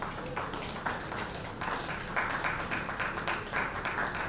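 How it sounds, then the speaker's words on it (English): An audience at a Nigerian housing discussion event claps to welcome the host, a moderate, fairly quiet patter of applause sustained throughout without talk. "A round of applause for her as she comes"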